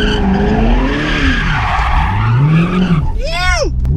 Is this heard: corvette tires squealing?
yes